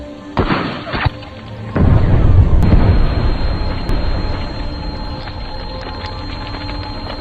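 A bomb blast in a war film ambush: sharp impacts lead into a heavy, rumbling explosion that swells loudly and then slowly fades into lingering debris noise.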